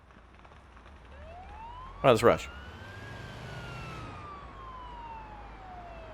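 A siren rises and wails steadily in an emergency medical simulator game, with a vehicle engine rumbling underneath and a brief burst of clatter early on, while someone speaks briefly over it.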